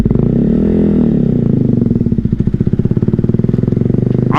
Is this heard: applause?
no